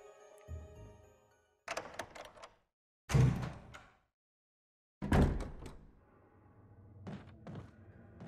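Heavy doors in the Resident Evil HD Remaster mansion open and shut with several separate thunks and clunks, each a solid close impact with a short decay, divided by stretches of near silence.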